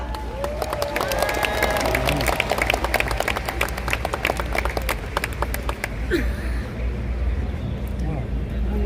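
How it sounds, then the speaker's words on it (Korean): Crowd applause at an outdoor presidential campaign launch in Gwanghwamun, Seoul, a dense steady patter of many hands with some cheering over a low rumbling background, continuing for several seconds before thinning near the end. "여러분의 박수로 함께 해주시기 바랍니다."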